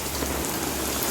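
Rain falls steadily outdoors, a dense, even patter of drops on hard surfaces with no voices.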